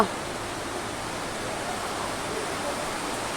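Heavy rainstorm pouring down steadily, a dense, even roar of rainfall with constant intensity and no distinct individual drops.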